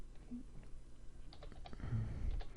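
Numbers tapped into a spreadsheet formula window on a computer keyboard make quiet, sparse key clicks in a soft cluster, faint against light room noise.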